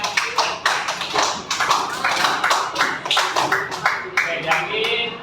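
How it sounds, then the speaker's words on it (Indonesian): Classroom applause for a student's correct answer, a short burst of hand clapping from a group of students with uneven, overlapping claps that continue for several seconds at moderate loudness. "kasih tepuk tangan untuk jawabannya"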